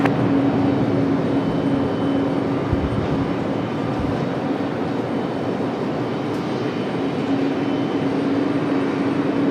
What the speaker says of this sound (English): That CRJ is off to LaGuardia as well, Endeavor 4689. That CRJ 900LR, 19 years of age